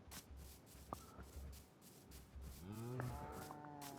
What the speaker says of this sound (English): Another little farm, some cows.